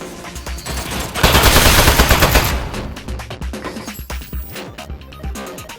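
Turret gun in Aperture Desk Job: loud rapid automatic fire swells into a dense roar, then breaks into quicker, lighter rattling bursts that fade out.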